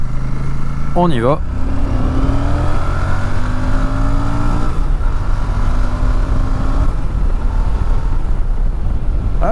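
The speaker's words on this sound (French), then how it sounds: "Alors on va faire une petite accélération pour voir quand même ce que ça donne." A Royal Enfield Super Meteor 650 twin-cylinder motorcycle, 2024 model, accelerates through the gears, its engine rising in pitch with shifts, loud and close, with a short spoken phrase at the start.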